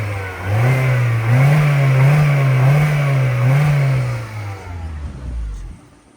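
A 2013 Mini Cooper with a 1.6 petrol engine is revved repeatedly from idle, loud and close, its engine note rising and falling several times before settling back down.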